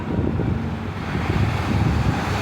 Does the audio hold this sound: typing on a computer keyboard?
no